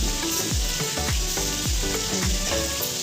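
Fish frying in a pan at home gives a steady, loud, hissing sizzle that fills the whole stretch without pause, with faint rhythmic tonal sweeps underneath and no talking.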